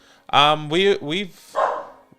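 A dog named in the household barks during a live fantasy football stream, giving three or four loud, close, tonal barks in quick succession with a short pause before the last one.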